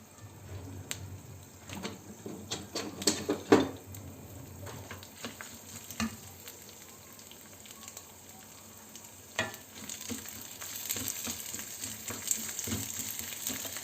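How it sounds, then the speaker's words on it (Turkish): Rice sautéing in a pan for chicken maqluba, with a continuous close sizzle and frequent scraping, clicking stirs of a utensil, growing busier toward the end. "Buraya hemen pirinçlerimizi koyalım. Ve kavurmaya başlıyorum."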